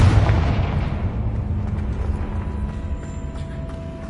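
A Confringo fire blast spell from Hogwarts Legacy bursts with a loud, booming explosion at the start, then rolls into a long, fading rumble with faint lingering tones over about four seconds, no voices.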